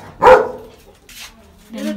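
On a farm, a dog barks sharply once nearby, followed by a softer short bark and a third yappy bark, with brief quiet gaps between them.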